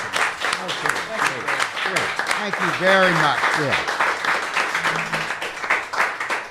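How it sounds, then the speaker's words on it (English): An audience applauds during a talk show, scattered clapping running under a voice as he speaks and gives thanks, with more talk continuing over the clapping. "we applaud you"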